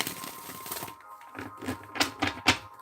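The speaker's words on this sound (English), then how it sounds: "Hold on, let me just shuffle." Tarot cards are shuffled by hand, giving a series of crisp, close riffling and tapping bursts in an uneven rhythm, with no talking.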